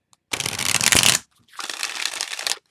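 Two bursts of tarot cards being riffled and shuffled, crisp and close, separated by a brief pause.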